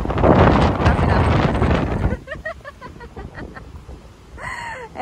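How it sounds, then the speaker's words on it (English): Strong wind buffets the microphone on a Tokyo street in the morning, a loud broadband roar for about two seconds that then drops to lighter gusts under faint background sounds. "that's how windy it is"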